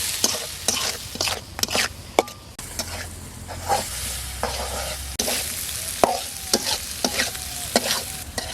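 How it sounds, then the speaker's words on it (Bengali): Ground spice mix of turmeric, salt, cumin and coriander fries in oil while a spoon stirs it, giving a steady close sizzle broken by repeated scraping strokes against the pan. "এবার এই মশলাটা ভালো করে কষিয়ে নেব।"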